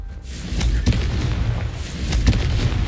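Confringo spell explosions in Hogwarts Legacy: a couple of sharp, booming impacts over a low rumble, loud and close, with no talking.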